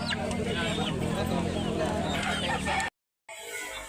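Chickens at a poultry market in Domanjug, Cebu cluck and a rooster crows against a dense, steady din of birds, with someone talking over it and a brief dropout near the end.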